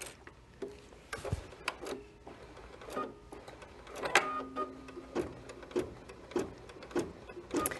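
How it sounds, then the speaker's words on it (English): An embroidery sewing machine stitches out an outline, a steady mechanical run of needle clicks and rattles with rhythmic thumps about every half second, fairly quiet and close with no talking. "We are ready to stitch, so we are going to stitch out that first portion, which again is going to be that outline."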